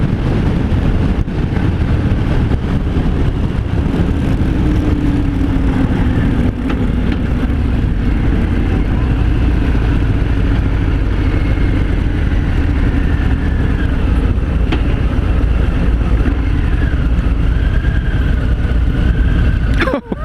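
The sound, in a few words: Harley-Davidson Fat Bob 114 motorcycle engine riding in 5th gear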